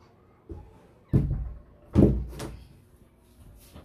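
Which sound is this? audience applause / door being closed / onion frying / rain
door being closed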